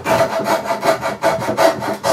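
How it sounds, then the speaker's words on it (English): A hand saw cuts through a wooden plane blank for a traditional jointer plane in steady, rhythmic back-and-forth strokes, close and loud with a rasping tone. "sawing away all these webbed bits here"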